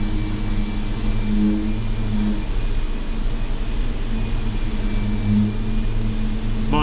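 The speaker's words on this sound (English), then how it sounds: "It is a working body shop" Constant drone fills a working body shop where an MGB GT is being prepared and painted, a steady low machinery hum and compressor-like roar with no clear individual events.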